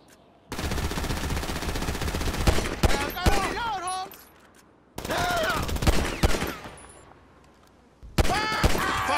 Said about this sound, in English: Shoot up that canister!